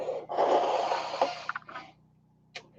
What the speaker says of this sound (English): my content is me blowing my nose tonight